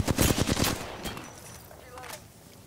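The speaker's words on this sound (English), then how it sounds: "That guy's shooting me through smoke." Rapid bursts of video game gunfire in a ranked match, loud and close at first, then thinning to a few scattered distant shots as the fight fades.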